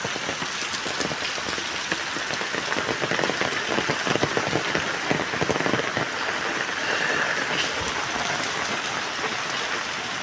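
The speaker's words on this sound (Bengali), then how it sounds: "মুষলধারে বৃষ্টি হচ্ছে কিন্তু আমাদের এলাকায়" Heavy monsoon-style rain pours steadily over a village in Bangladesh, a dense hiss of drops drumming on surfaces nearby, unbroken from start to finish.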